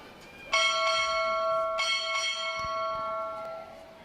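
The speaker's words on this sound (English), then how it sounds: "Time orderly. Strike 4 bells." Ship's bell rung at a U.S. Navy boot camp graduation ceremony: ringing metallic strikes in pairs with long sustained decay, heard clearly across a quiet indoor hall.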